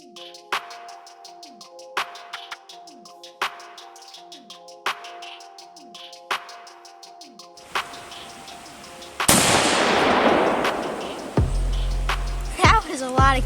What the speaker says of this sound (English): we're going to start shooting, so it's going to be pretty loud